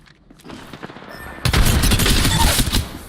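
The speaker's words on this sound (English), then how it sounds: "I'm taking fire." Rapid, dense gunfire from Apex Legends erupts partway through, a loud continuous burst of shots that builds over a quieter rumble of combat.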